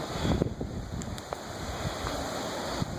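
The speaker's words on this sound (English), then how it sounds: "you can actually hear the ocean because where the estate is, it's very close to the water, and you can hear the waves" Ocean waves rolling in near the shore on Tobago, a continuous soft wash of surf mixed with wind buffeting the microphone, with a few faint thumps and no talking.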